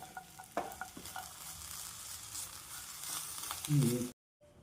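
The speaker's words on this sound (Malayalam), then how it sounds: "നന്നായിട്ട് ഇട്ടിട്ടൊന്ന് ഇളക്കുക, മിക്സ് ചെയ്യുക" Potato poha being stirred with coriander leaves in a pan, soft scraping and light clinks of a spoon over a faint sizzle, quiet and close, ending with a brief louder scrape.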